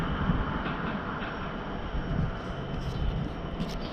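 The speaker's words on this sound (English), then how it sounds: "Oh look, there's a freight train." A steady, broad rumble of a freight train rolling past nearby at Finedon Road industrial estate in Wellingborough, continuous and loud throughout with faint clanks over the din.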